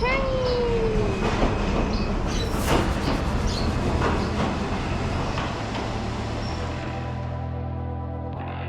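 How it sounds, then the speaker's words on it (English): A train rolls into a Thai station bound for Nong Khai with squealing wheels and rumbling carriages, brakes screeching as it slows to a stop. "Comes the train!"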